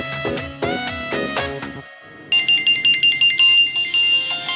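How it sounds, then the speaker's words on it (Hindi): A mobile phone ringtone plays for an outgoing call during a Hindi TV drama scene. It starts as a bright, melodic electronic tune, then after a brief pause switches to a rhythmic pattern of repeated tones. "अर्जुन सर को तो बुलाया नहीं, फोन करता हूँ"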